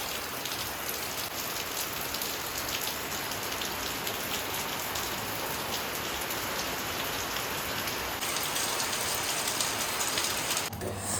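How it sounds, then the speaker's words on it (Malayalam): Heavy rain falls steadily outdoors at a home with a wood-fired stove, making a dense, constant patter on surfaces that stays loud throughout with no talking. "നല്ലൊരു മഴയായിരുന്നു."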